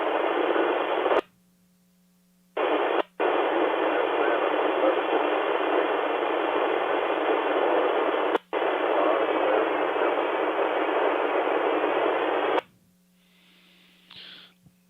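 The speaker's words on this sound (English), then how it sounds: "You're covered up in noise, and your signal is unreadable as it is." A noisy GMRS radio transmission on a regional net: a loud hiss of static, broken by abrupt dropouts and short gaps, with a steady hum underneath and no readable voice, ending in a faint squelch tail.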